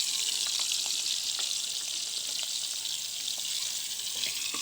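Onion, garlic and cumin paste frying with water taro in a pan, giving a steady, close, continuous hissing sizzle with faint stirring clicks throughout and no voices.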